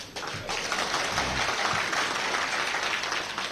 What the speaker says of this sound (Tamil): எதை நினைத்து நீங்கள் கைதட்டுகிறீர்களோ